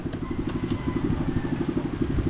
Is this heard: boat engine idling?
yes